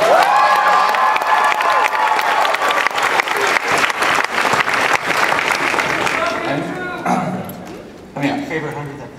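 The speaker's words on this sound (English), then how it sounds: "By the way, big round of applause for the 100th episode," A convention audience at a My Little Pony: Friendship Is Magic panel breaks into loud, sustained applause and cheering close by, then thins and tails off toward the end.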